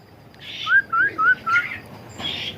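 A black klewer bird whistles a series of four clear, rising chirps in quick succession, close by, followed by a softer call.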